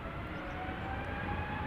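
JetBlue airliner departing Amsterdam Schiphol Airport, its engines giving a steady, even roar with a faint whine on top, heard at a moderate distance and without pause through the short stretch.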